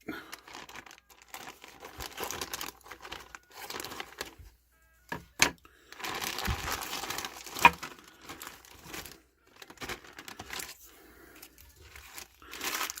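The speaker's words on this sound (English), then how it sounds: "The accessories in little Ziploc bags inside the poly bag. Let's open up, take a look." A plastic poly bag and small Ziploc bags holding action figure accessories are pulled open and handled, with irregular close crinkling, rustling and tearing bursts separated by short quiet gaps.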